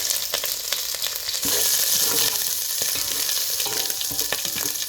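Ginger-garlic paste with whole spices such as peppercorns and bay leaf fries in hot oil, a loud, steady crackling sizzle with occasional stirring clatter, heard alone without talk.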